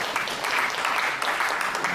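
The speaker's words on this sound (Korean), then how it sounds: "박수 한번" Audience applause at a foundation's anniversary seminar, steady crowd clapping throughout a brief two-second burst, fairly close and even in level.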